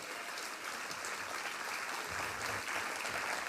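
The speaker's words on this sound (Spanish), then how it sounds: "Vamos a darle un aplauso fuerte a Dios." Sustained applause from a church congregation, dense and steady clapping throughout with no break.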